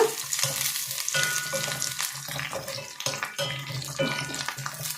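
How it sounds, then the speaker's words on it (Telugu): Fifty millilitres of coconut oil heating in a pan, giving a dense, continuous close crackle and hiss with irregular spitting bursts and no voices. "ఈ యాభై మిల్లీ కొబ్బరి నూనె పోసుకున్నామమ్మా ఇది పోసేసి మీరు బాగా మరగనియాలా"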